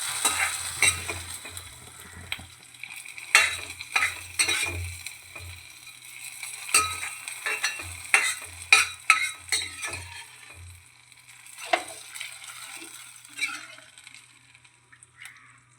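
Fried mustard seed tempering stirred into a Kerala thattukada-style beef curry: a spoon scrapes and clinks against the pan in irregular strokes over a soft sizzle, close by and without talk.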